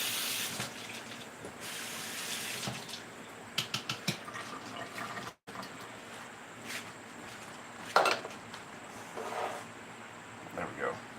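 Water runs from a kitchen tap while a jar is rinsed, a soft hiss with small clinks and splashes, under quiet background noise.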